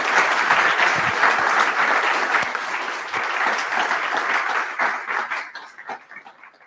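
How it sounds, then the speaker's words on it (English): Sustained audience applause at a conference closing plenary, many hands clapping loudly and densely before tapering into scattered claps near the end. "I think round of applause to Anna."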